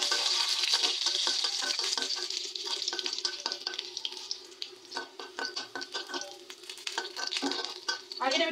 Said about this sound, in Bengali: আমি এটাকে এখন একটু বাগার দিয়ে দিব